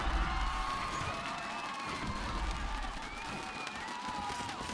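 An esports arena crowd roars and cheers after a flawless round in a Team Liquid match, a dense sustained wash of voices throughout with a commentator talking over it.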